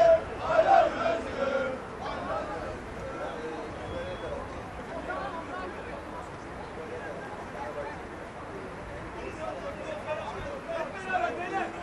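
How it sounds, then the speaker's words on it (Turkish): Football fans at a Fenerbahçe training session chant for player Özgür Çek, a distant, muffled crowd roar lying under a commentator's steady talk. "Özgür Çek için tezahüratlar şu anda yapılıyor"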